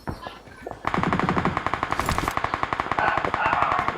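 Rapid bursts of automatic gunfire in a video game ring out continuously and loudly, shot after shot in a fast regular rhythm, after a brief moment of faint voice.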